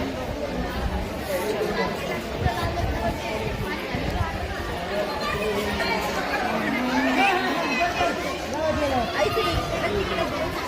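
Crowd chatter at a busy water park, a dense hubbub of many voices and children's shouts with splashes and movement, steady and close all around, with nearby talk.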